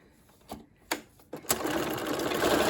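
A sewing machine sews a fancy stitch with a regular presser foot: a few isolated clicks and knocks, then the motor starts and runs in a steady, fast whirring rattle to the end.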